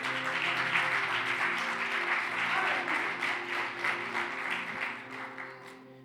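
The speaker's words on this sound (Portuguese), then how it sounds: "Se é para Jesus, pode aplaudir" A church congregation applauds during a sermon, a broad wash of clapping with a steady hum underneath that slowly fades toward the end.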